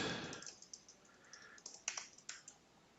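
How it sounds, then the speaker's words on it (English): Quiet typing on a computer keyboard, a short irregular run of soft key clicks close to the microphone with no talking. "I type Bart Simpson"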